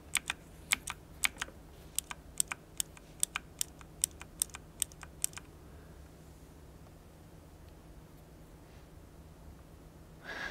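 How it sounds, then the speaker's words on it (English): Typing on an MSI Vigor GK50 Elite mechanical keyboard: about twenty sharp, close clicks with deeper bottoming-out thuds in an uneven burst over five seconds, then only quiet room noise. "when you're typing, you tend to hear both the click, but also the bottoming out, which is a bit of a deeper sound."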